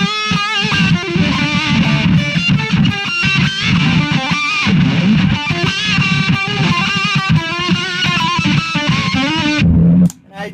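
An electric guitar through a modded Fender Blender effects pedal gives a thick, distorted octave-down tone, playing sustained chords and notes continuously, loud and up front, then cutting off near the end.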